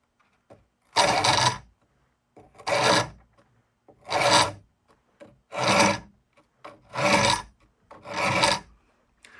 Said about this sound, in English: So I'm going to show you my technique, which is to use the whole rasp.